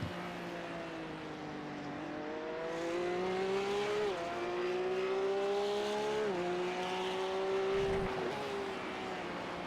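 Porsche Cup race cars driving on a track: a steady, droning engine note climbs in pitch and drops at several gear changes, heard at a moderate distance with no talk.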